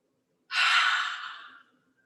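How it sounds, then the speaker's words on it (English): A single forceful cleansing exhale through the mouth during a yoga breathing exercise, a breathy rush lasting about a second that fades out, close and alone. "take a deep inhale to the nose and exhale through the mouth. Forcefully a little."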